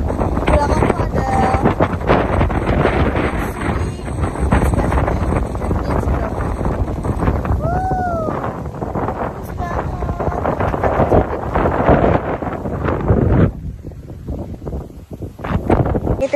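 Strong wind gusts buffet the microphone on the summit of Mount Andong, a loud continuous roar and rumble, with a person speaking intermittently beneath it.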